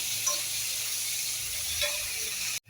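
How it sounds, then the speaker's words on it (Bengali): Onions fry in a pan with a steady, fairly close hiss and sizzle that runs unbroken for over two seconds, then cuts off abruptly. "তো পেঁয়াজটা আমার ভাজা হয়ে গেছে"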